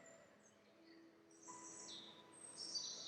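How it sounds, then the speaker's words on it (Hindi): Small birds chirping and singing in a quiet natural setting, faint scattered high tweets and calls, growing a little busier toward the end. "उन पक्षियों को देखकर जो पक्षी चहचहा रहे हैं"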